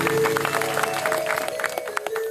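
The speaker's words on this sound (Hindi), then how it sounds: "ताली बजाकर सम्मान।" An audience claps in honour at a religious discourse gathering, a short burst of dense, scattered hand claps from a crowd that thins slightly toward the end.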